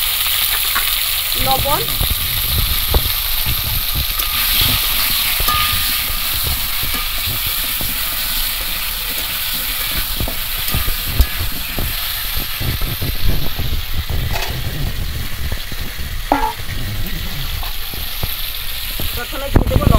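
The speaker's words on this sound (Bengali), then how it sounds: "আলুগুলো আগে ভেজে নেব।" Big chunks of potato sizzle and fry steadily in hot oil for a chicken curry, with stirring clatter and someone talking over the constant crackle.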